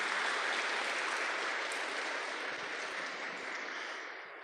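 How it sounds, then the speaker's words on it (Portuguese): A congregation applauds at a Catholic Mass with dense, even clapping that stays loud for several seconds before slowly fading toward the end. "Uma salva de palmas para as nossas crianças,"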